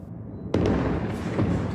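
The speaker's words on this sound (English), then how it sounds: "A cacophony of explosions, echoing hour after hour." Explosions in Gaza City: a sudden heavy blast strikes after a quiet moment, followed by a sharp second report and a long rumbling, echoing tail, loud and moderately distant.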